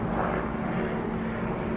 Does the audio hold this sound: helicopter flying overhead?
yes